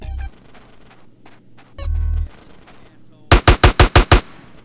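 Machine gun fire in GTA San Andreas: a rapid burst of six sharp, loud shots in quick succession near the end, after a low rumble and scattered game effects.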